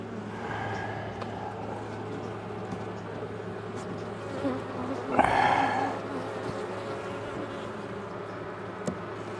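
Honey bees buzz steadily around an open beehive during a warm-day winter hive check, with a louder bee passing close by partway through.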